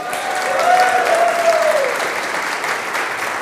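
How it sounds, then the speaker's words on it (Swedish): An audience at the opening of a 24 Hour Business Camp event applauds steadily and fairly loudly, a dense wash of clapping from many hands that holds throughout. Briefly, a faint tonal whistle or squeal rises and fades above the applause. "Och det är nu ni ska applådera."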